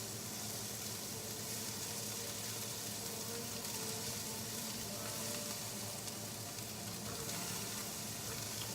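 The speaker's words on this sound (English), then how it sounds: "So we're just letting these vegetables, the cabbage, the carrots, the onions, we're gonna let those all cook down." Cabbage, carrots and onions fry over high heat in oil, giving a steady, dense sizzle that stays even and continuous throughout, with faint stirring underneath.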